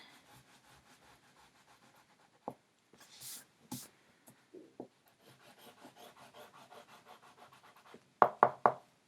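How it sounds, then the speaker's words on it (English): An eraser rubs pencil guide lines off paper in quick rasping strokes, faint at first and then louder. A few sharper brushing swipes and taps break in, and it ends with three loud scrubbing strokes. "But I'm going to erase mine."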